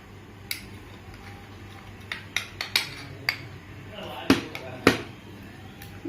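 Ghee and powdered sugar are beaten together for atta biscuits, with a utensil tapping and clinking against the bowl in scattered sharp knocks over a quiet kitchen background.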